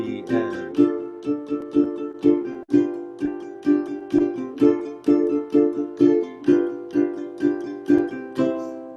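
Steady strumming on a ukulele, bright-toned, strokes falling in an even repeating rhythm, close and clear with no voices.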